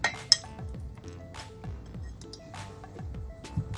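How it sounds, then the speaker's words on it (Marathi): Ice cubes clinking and clattering into a steel mixer jar for a homemade raw-mango fruity drink, several sharp hard knocks and rattles in quick succession, close and fairly loud. "आता मिक्सरच्या भांड्यामध्ये आपण पहिले आईस क्यूब टाकून घेऊया"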